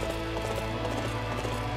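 Horse galloping into battle in Dynasty Warriors 8 Empires, a fast steady clip-clop of hooves over a dense, loud game soundscape, no talk.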